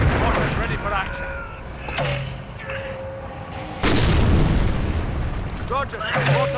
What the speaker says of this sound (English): Roger, mortar barrage.